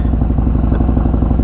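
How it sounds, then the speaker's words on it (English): A 2021 Harley-Davidson Street Bob with a 114 cubic inch engine, six-speed transmission and stage 3 tune, running with a loud, steady low-pitched throb and rapid rhythmic pulsing, close and alone. "This is the first time since my MSF course that I've ridden a Harley Davidson motorcycle."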